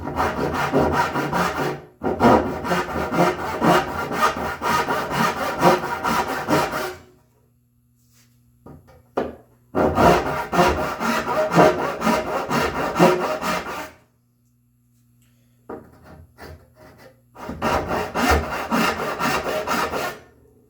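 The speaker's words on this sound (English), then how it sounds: "I'm going to take this 10-inch, this rip cut saw, that's my dovetail saw actually, and I'm going to make a bunch of relief cuts" A 10-inch dovetail rip saw cuts a series of relief kerfs in walnut by hand, each cut a steady rasping stroke rhythm lasting several seconds, with short pauses and quiet gaps between cuts.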